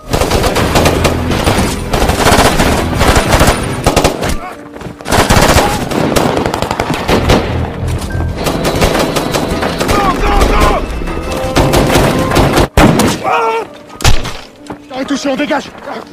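Loud bursts of rapid automatic gunfire and sharp single shots, with crashes and chaotic noise over a tense, busy background.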